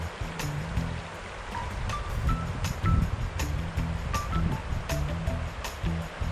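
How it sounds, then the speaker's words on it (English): The Chagrin River flows close by as a steady rushing wash, with occasional crunching footsteps or snapping twigs and a few faint bird chirps over the top. "Let's check out the river, because we're basically, you can hear it."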